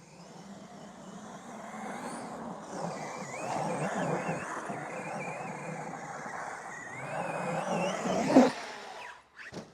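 Traxxas XRT/XMAXX RC truck fitted with a MOD1.5 gearset, its electric motor whirring steadily at mid distance and rising in a brief louder rev near the end.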